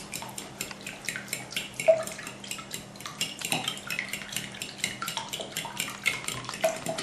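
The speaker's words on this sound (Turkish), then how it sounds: "Öncelikle sıvı malzememizi karıştırıyoruz." Water and salt for börek dough stirred in a bowl, with continuous close clinking and scraping of a utensil against the dish and a light watery swish, no voices.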